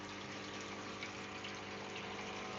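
An aquarium waterfall pump runs steadily, giving a continuous, even wash of falling and churning water at moderate level with no pauses.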